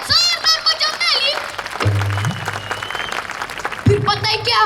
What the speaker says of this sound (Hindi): एक बार जोरदार बजाओ ताली।